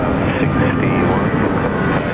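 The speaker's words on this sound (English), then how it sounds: "Rex is just making that right turn" A Rex airliner turning right at Sydney Airport, its engine noise a steady, loud broadband roar that holds throughout with no clear rise or fall.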